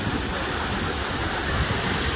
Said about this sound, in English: the biggest waves I've seen out in the Gulf so far